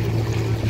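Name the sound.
racing sailboats moving through the sea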